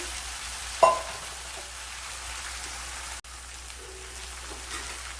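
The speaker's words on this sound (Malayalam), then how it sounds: "ഇനി ഇത് നല്ലതുപോലെ ഒന്ന് ഇളക്കി കൊടുക്കാം" Gooseberry pickle being stirred through oil and juice, a soft continuous wet hiss with one sharp clink near the start and faint scraping after, fairly quiet and with no talk.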